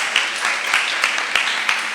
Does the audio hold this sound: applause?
yes